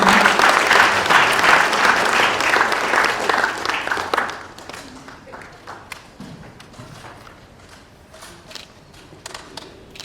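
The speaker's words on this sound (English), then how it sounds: "Let's give a hearty clap for Nancy Karigithu." A conference audience claps for a maritime authority official taking the podium: loud, dense applause for about four seconds, then it drops to scattered, sparse claps and quiet room noise.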